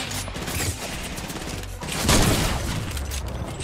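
Gunfire in Fortnite Playground mode, a steady spatter of shots under game noise that swells midway, with little talk over it.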